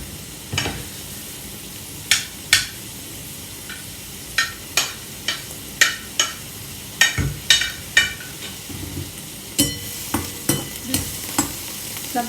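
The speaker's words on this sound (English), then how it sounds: "On this paneer, as it is getting roasted" Paneer roasts in a pan under a soft continuous sizzle, broken by about fifteen sharp scraping or stirring taps spaced roughly half a second to a second apart.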